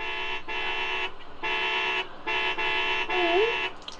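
Car horns honk in a series of loud, sustained toots, four long blasts separated by short gaps, with a higher warbling tone slipping in near the end; no voices.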